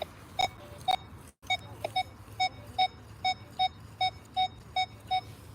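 An XP Deus or Nokta Legend metal detector gives short, evenly spaced electronic beeps, a dozen or so clear tones in a steady rhythm with a brief dropout near the start, in a park.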